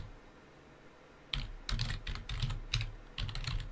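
Typing on a computer keyboard at a desk while writing PowerBASIC Console Compiler code, a quiet start followed by several bursts of rapid, close key clatter with short pauses between them.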